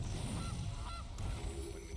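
A goose honk sound effect from a digital card game, a couple of short nasal honks over a dense, steady bed of game music and noise, with no talking.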